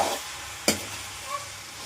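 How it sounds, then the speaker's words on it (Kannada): Cooked rice stirred in a hot pan for homemade fried rice, a soft steady sizzle with one quick scraping clink of a spatula, quiet and close. "ಸೊ ಅನ್ನ ಬೇಯಿಸಿಟ್ಕೊಂಡಿರೋದನ್ನ ಇದಕ್ಕೆ ಹಾಕ್ಕೊಂಡು ಜಸ್ಟ್ ಒಂದು ಸ್ವಲ್ಪ ಮಾಡ್ಕೊಂಡು"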